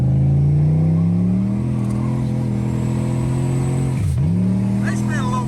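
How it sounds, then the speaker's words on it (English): A G-body car launching hard from a dig on a test hit: steady, loud revving engine drone close by that holds, dips sharply near the end and climbs again, with a voice speaking briefly over it. "I'm gonna go do a couple test hits over in Mexico real quick, show you how good they hook up from a dig."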